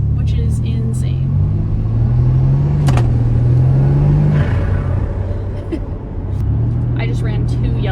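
A GMC Syclone truck drives along with a steady, loud low engine drone and road rumble that swells slightly, dips briefly near the end, then resumes.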